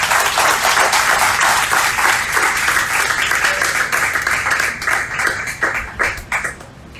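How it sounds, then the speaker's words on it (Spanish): Audience at a lecture on the history of feminism breaks into warm applause, a loud, full sheet of clapping that gradually thins into scattered individual claps before fading. "démosle por favor un cálido aplauso"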